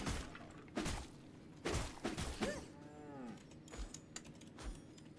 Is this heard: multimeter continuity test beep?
no